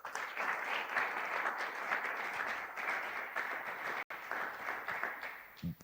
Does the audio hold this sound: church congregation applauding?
yes